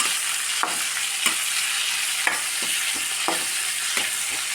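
Sliced okra fries in a pan with a steady broadband sizzle, punctuated by about eight sharp scrapes and knocks of a spoon stirring at irregular intervals, close and continuous with no talking.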